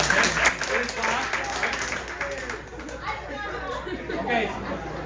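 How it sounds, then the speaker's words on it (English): Audience clapping rises amid crowd chatter and a few chuckles, moderately loud and fairly continuous, mixed with voices murmuring through it. "Go ahead and clap so the security doesn't think I'm trying to do anything."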